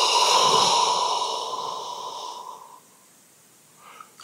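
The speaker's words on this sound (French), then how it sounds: "Je bâille, je me laisse aller, je m'étire." A long, relaxed human yawn with a breathy, drawn-out voiced tone that swells and then trails off into quiet, heard alone.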